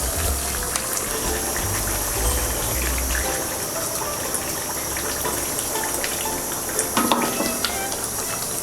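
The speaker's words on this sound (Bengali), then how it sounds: "এখন আমি সিদ্ধর জন্য পানি দিয়ে দেব।" Water gushes into a cooking pot over browned duck meat, a continuous splashing fill with faint clinks of the pot and low rumbling handling noise beneath.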